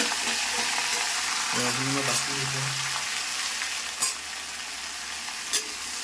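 Onions that have turned red fry in a pan with a steady sizzle, stirred with a spoon that scrapes and knocks against the pan twice, while a faint voice hums briefly in the background.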